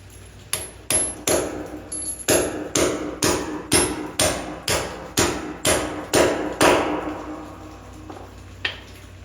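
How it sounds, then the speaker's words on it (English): Half-inch Cobra concrete anchors are hammered into a concrete floor in a shop, about a dozen loud, sharp metallic strikes close by in a steady rhythm, followed by a single lighter tap after a pause. "I'm just hammering some stuff into the concrete"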